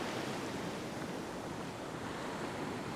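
Ocean waves wash over a beach sandbar and drain back out in a faint, distant, steady rushing wash with a touch of wind, with no voices.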